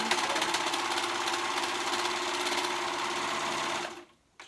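A sewing machine stitches the fabric seams of a girl's dress sleeve, running in a fast, steady mechanical whir for about four seconds before stopping abruptly.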